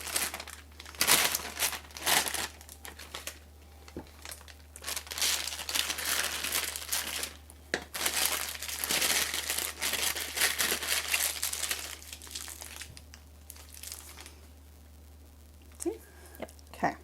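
A plastic icing bag fitted with a 1M star tip is handled and squeezed while making cheese straws, producing bursts of crinkling and rustling that come and go over a steady low hum.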